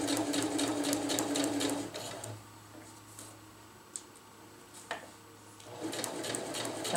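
Sewing machine stitching a seam across tarp fabric, a fast, loud mechanical chatter that stops for a quiet stretch with a couple of small clicks, then starts up again.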